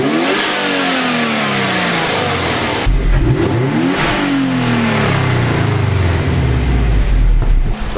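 A Subaru with a stage 2 downpipe rumbles loudly and up close, its engine climbing and dropping through repeated revs in a deep, continuous burble with no voices over it.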